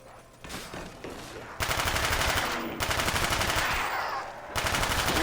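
An HK gun firing in CoD Black Ops Zombies: loud, dense bursts of automatic gunfire in several sustained strings separated by brief gaps, close and dominant with no talking.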